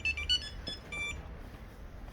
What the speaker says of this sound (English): A light impact will just give you a warning, or a full-blown impact will set the alarm off. That's the warning.